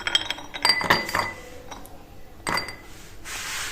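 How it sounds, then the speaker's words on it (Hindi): Almonds dropped into a glass, a few sharp clinks and rattles as the nuts land, close-up with quiet gaps between them. "तो हम डालते हैं बादाम, गिलास में डाल लें"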